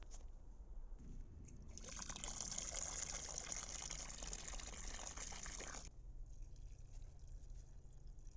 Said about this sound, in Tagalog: Gawin natin ngayon, didilagan natin itong mga ito.